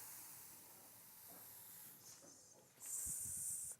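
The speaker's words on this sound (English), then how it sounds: "This delivers a fine mist and it kind of goes on after you've stopped pulling the trigger" A trigger spray bottle lets out a fine mist in a soft continual hiss that runs on, ending in a brighter, louder burst of spray near the end, quiet and close with no talk.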